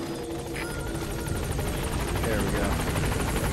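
Helicopter arriving at a landing zone in the video game Metal Gear Solid V, a steady loud rotor drone with rapid blade chop throughout, growing slightly louder as it nears, with a brief spoken remark over it.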